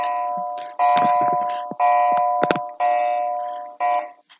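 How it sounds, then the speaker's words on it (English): A classroom's electronic bell rings in four repeated bursts, each a sustained bright tone with a sharp onset and fading tail, loud and close. "That was the bell in the classroom."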